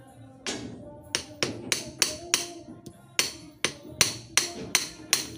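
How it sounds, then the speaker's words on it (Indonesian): Sharp metallic taps strike a long tie rod end to seat a rack steering seal on a Toyota Starlet, about a dozen crisp knocks in an uneven rhythm, close up with no speech. "Nanti kita ketok dikit long tirotnya biar dia masuk."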